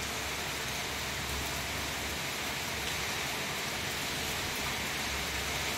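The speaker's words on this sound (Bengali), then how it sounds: "তোমরা মনে হয় আমি চুপ করলে শুনতে পাবে বৃষ্টির আওয়াজটা" Heavy monsoon rain pours down in a steady, dense wash of hiss that holds at an even level throughout, with no voices over it.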